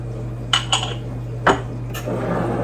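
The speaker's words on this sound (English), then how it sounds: "Stir it up." Spoon clinking against a container while stirring a homemade chai spice mix with black pepper, a few sharp metallic taps over a steady background hum.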